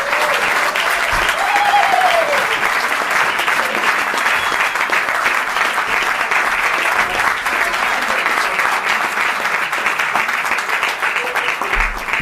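Loud, sustained applause from the audience at a Women in Law Enforcement seminar, dense clapping filling the hall for over ten seconds with a voice briefly heard near the start.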